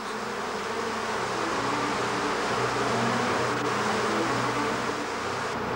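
A dense, loud, continuous buzzing drone of a large bee swarm being poured over a man during a world record attempt, with no pauses.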